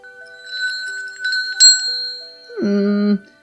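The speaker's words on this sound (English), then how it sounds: "It's just a handmade rustic bell." A handmade rustic Indian metal bell rings with bright sustained tones, a sharp strike midway, then a lower clanging ring that fades out.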